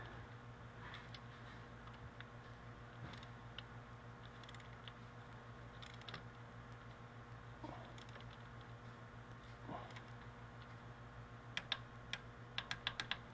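Torque wrench clicking while bolts are tightened on a GM 3.4 liter engine: a few small, faint clicks scattered over a steady hum, ending in a quick sharp cluster of clicks.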